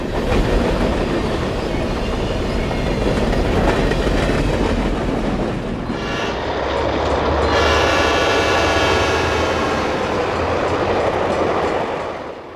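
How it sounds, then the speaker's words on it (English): A B&O freight train hauling GSCX hopper cars built for rotary dumping rolls past close by, a loud, steady rumble with wheel clatter and rail noise that holds for the whole stretch, with no voices. "This train originated on the B&O."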